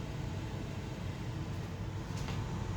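A Power XL air fryer runs quietly, giving a steady, even whir and airy hum that holds at a constant level with no talking over it.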